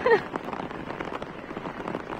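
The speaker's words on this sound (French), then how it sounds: "Là, il pleut, mais ça va pas durer longtemps." Steady patter of rain falling on surfaces nearby in the Gorges du Verdon in July, with a brief voice right at the start.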